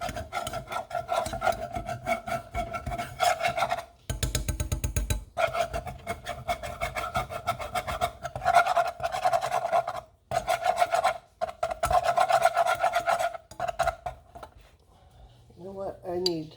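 A whisk scrapes steadily and rhythmically against a pot, stirring flour into melted butter, close and continuous with short breaks.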